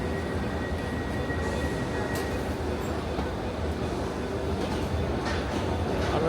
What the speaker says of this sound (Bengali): আরও একটা নতুন ট্রেন আমরা দেখতে পাচ্ছি।